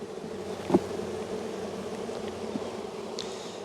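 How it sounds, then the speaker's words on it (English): Honey bees buzz steadily inside a large, crowded hive during a spring inspection, a close, even drone with a soft knock near the start and no talk. "There's just so many bees in here."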